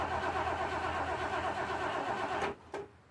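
A 1975 Bricklin SV-1 engine cranking over on its first start of the year, a steady loud mechanical churn that cuts off abruptly, followed by one brief second burst before near silence.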